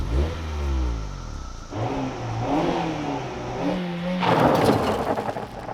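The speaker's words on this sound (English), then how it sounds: "the Miata is their flagship sports car, and I am sorry to say, the exhaust note really disappoints" A Mazda Miata roadster engine revs up and down several times, the exhaust note rising and falling in pitch, loud and close with a raspy burst near the end.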